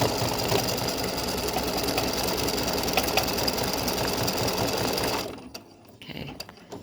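An embroidery sewing machine satin stitches a heart in a continuous fast mechanical whir, loud and close, then stops abruptly near the end, leaving faint handling noises.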